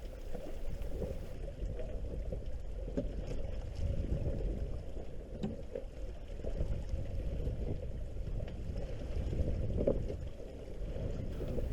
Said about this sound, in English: you start just to hear the sound of the water past the hull and the wind